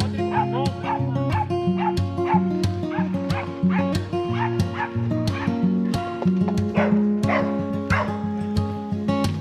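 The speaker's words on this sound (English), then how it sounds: "most of the ruckus is from the little dog that's riding on our guide's lap atop the horse" A small dog riding on a guide's lap atop a horse during a gaucho horse trek in Córdoba's sierras barks and yips repeatedly in quick, high, whimpering bursts, close and lively, with faint voices in the background.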